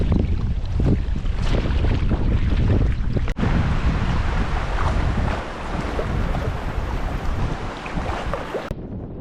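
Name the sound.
strong wind on the River Spey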